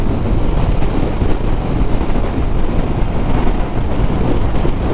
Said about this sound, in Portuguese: Nunca vi um vento assim, velho.